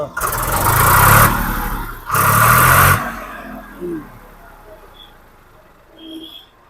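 A 2021-22 model Sonalika tractor engine starts up and revs in two loud, roaring bursts, then settles back to a quieter running sound.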